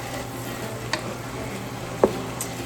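Minced garlic fries in a pan of browning ground beef for sloppy joes. A soft, steady sizzle runs throughout, broken by a few faint clicks and one utensil knock, close by with no voices.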